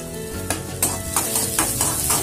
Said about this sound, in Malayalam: ആദ്യം എണ്ണ ഒഴിച്ച് ഉള്ളി ചേർക്കണം. അതിലേക്ക് കാന്താരി